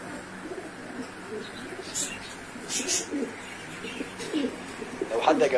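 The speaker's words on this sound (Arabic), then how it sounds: "ده الحمام ده من نوادر يا جماعه اسمه افريكان." Rare African fancy pigeons coo softly in a loft, low murmuring calls rising and falling with a few brighter chirps and flutters, the cooing growing busier and closer toward the end.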